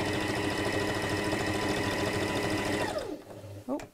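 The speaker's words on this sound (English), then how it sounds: "I'm going to sew around the remaining three sides" A sewing machine stitches through fabric layers of a clutch bag with a steady rapid whirring hum, then winds down and stops near the three-second mark, followed by a brief handling clatter.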